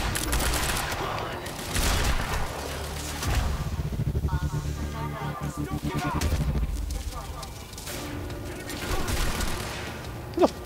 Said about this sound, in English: Who the fuck's shooting me now?